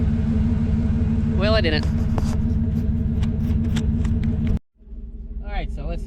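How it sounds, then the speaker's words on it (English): Chevrolet S10 pickup engine running with a loud, steady rumble throughout, unevenly with its timing far off, as a passenger and driver talk over it; the engine briefly cuts out near the end before it picks up again under more talk. "let's take our first ride in the S10 in over a year"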